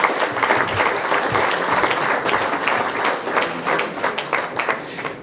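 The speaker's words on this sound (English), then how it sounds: "I think they deserve a big applause." Dense, sustained applause from an audience at an Eid and integration community dinner, steady clapping throughout with a few louder bursts and no clear talk on top.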